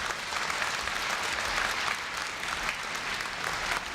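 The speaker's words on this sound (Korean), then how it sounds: "염재호 총장님을 뜨거운 박수로 맞이해 주시기 바랍니다." Applause rises from a large audience at a Korea University freshman entrance ceremony, a dense, continuous wash of hand-clapping that holds steady throughout without speech.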